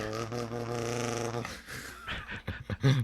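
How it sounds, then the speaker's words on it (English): A person growls into a kazoo, producing a buzzy, harmonically rich drone held steadily for over a second, followed by rougher sputtering growls and bursts that end in a louder buzz. "growl into a kazoo"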